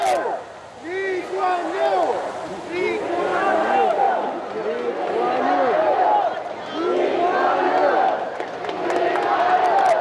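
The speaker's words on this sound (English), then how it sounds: "we can hear the crowds crying out his name, Lee Kuan Yew, as the cortege passes by" Large roadside crowd in Singapore calling out Lee Kuan Yew's name as his funeral cortege passes, a dense, continuous swell of many overlapping voices shouting and chanting, loud and sustained throughout.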